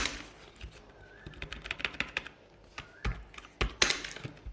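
Quick, irregular keystrokes on a computer keyboard while a date and day are being typed into Notion, light clicks tapping close up in uneven bursts with no voices.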